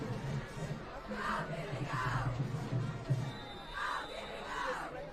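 A high school football crowd at a Peabody varsity game against Masconomet yells and cheers in scattered bursts as cheerleaders try to rouse it, distant and moderate, with a few shouts rising above the general din.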